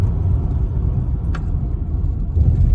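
A 2006 Honda Odyssey EX minivan with over 280,000 miles brakes gently to a stop under normal driving, its cabin filled with a loud, steady low road rumble that eases off without any squeal.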